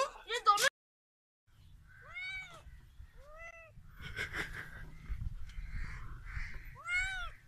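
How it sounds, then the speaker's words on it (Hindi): A cat being held meows several times in short, rising-and-falling cries, fairly close, with faint background noise and muffled voices around it. "फैसल ने बिल्ली फड़ी हुई है।"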